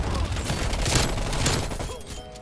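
A dense volley of rapid gunfire crackles in a Call of Duty: Black Ops Cold War match with a QBZ rifle, loud and continuous before easing off, with a voice talking alongside.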